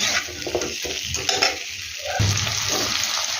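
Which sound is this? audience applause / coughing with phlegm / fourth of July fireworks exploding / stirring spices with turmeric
stirring spices with turmeric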